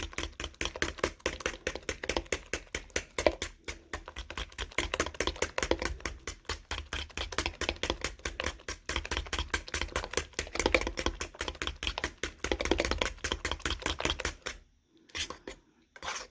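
Egg and lemon juice stirred together with a fork in a bowl: rapid, steady metallic clicking and tapping against the bowl for about fourteen seconds, then a pause and a few final taps.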